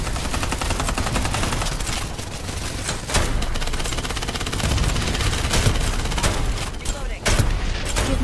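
Heavy, continuous gunfire in Farlight 84, with machine-gun bursts and overlapping shots forming a dense, loud barrage throughout, and occasional voices mixed in.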